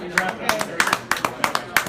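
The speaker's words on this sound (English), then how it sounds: "So we'll start the hand clapping." Rhythmic hand clapping from people at a talk, sharp claps in a steady beat of roughly two per beat cycle, close and clear with murmured voices underneath.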